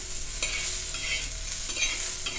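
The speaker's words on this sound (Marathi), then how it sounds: "थोडंसं तेलाचा वापर करायचा आहे म्हणजे कांदा पटकन भाजला जातो" Chopped onion fries in a little oil in a pan for a spicy chicken sukki, stirred now and then: a steady sizzling hiss with soft scraping strokes, close and even, with no voices.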